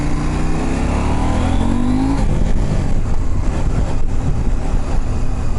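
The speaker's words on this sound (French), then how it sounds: "Ah, il a du peps le moteur." A KTM 790 Adventure motorcycle engine revs hard. Its pitch climbs in a steady sweep and then holds at a loud, close, continuous roar, with no talking.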